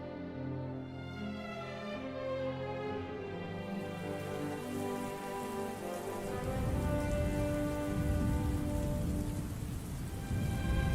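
Warm rain begins falling over a village, a soft hiss that swells into a steady, dense downpour in the second half, layered over sustained musical tones.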